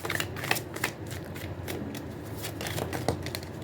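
Tarot cards shuffled by hand: soft, close riffling and sliding of the card stock in a continuous flutter, with occasional sharper flicks and no talking.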